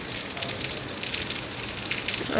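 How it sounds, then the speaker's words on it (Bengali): Rain falls steadily on a city street during the monsoon, a soft even hiss of drops with no voices. "দেখতে পাচ্ছেন যে বৃষ্টি কমছে এখন আবার বাড়া শুরু হয়েছে"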